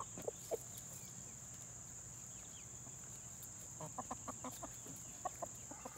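Chickens in a backyard garden give a few short clucks, soft and scattered over a steady background hum, with a faint bird call early on.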